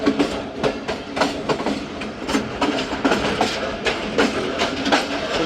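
The Khushhal Khan Khattak Express, running from Karachi to Peshawar Cantt, rolls along the rails with a dense, rhythmic clickety-clack of wheels over track joints and a steady rumble beneath, with no voices.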